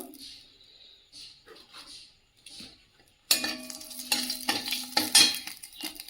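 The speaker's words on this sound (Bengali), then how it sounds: "তেলটা গরম হয়ে গেছে দিয়ে দেবো শুকনো লঙ্কা গোটা" Whole dried red chillies drop into hot oil, and after a quiet, sparse opening a sudden loud crackling sizzle bursts in and keeps sputtering close by.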